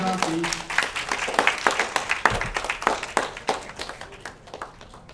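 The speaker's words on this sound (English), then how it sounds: "Round of applause, please" Scattered clapping from an audience at a summer camp award dinner, a burst of hand claps that thins out over a few seconds, with faint voices mixed in.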